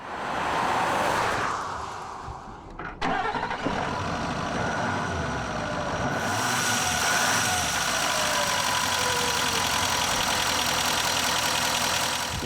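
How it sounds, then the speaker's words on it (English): A 2016 Nissan Titan XD diesel pickup engine idles steadily with a deep, clattering rumble, running continuously close by after a brief startup surge. "When you start this baby up, you know you're driving a diesel, and I happen to like that sound"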